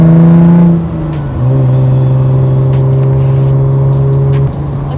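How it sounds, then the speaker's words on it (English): Car exhaust droning loudly from inside the moving car, with a steady engine hum that dips at a gear change and then holds a constant pitch. "I'm gonna film and see if I can get some good exhaust sounds for you."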